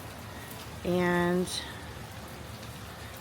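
Heavy rain during a flooding storm pours as a steady close hiss and patter throughout, briefly cut across by a sustained horn-like tone, with a spoken word in the middle.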